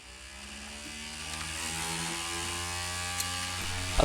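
Loud mechanical whirring and rattling from a 2002 Sony Vaio PCG-FXA53 laptop, a buzzing, chainsaw-like drone that builds and then holds steady, ending in a couple of sharp clicks.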